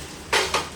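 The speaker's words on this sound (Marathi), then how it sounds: "आता भरतोय किचनची भांडी सगळी जी एक्स्ट्रा आहेत ती त्याची काढून ठेवली ती सगळी भरायची आहेत" Extra kitchen pots and metal utensils knock together in two quick, close clanks as they are packed up for a house move.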